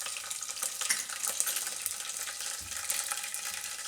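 Mustard seeds, cumin and green chillies sizzle and crackle in hot oil, giving a steady close frying hiss with small pops and occasional stirring.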